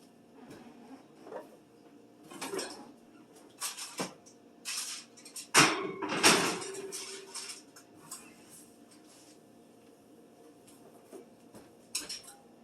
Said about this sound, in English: We're going to put it into the oven for 20 minutes, like I said.